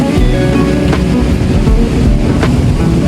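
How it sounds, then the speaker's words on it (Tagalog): Powerful waves break and churn on Dianao Beach in Aurora, a loud, steady surf roar with a couple of sharper crashes. No one speaks. "Sa sobrang lakas kasi ng alon niya"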